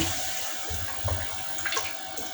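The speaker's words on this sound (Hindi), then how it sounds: "ये देखिए माशाल्लाह इतना पानी डाला है।" Water pours steadily into a cooking pot for a chicken feet curry, a continuous close splashing rush with small gurgles and clinks.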